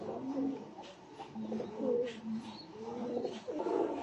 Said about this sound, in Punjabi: ਇਹ ਕਬੂਤਰ ਨੇ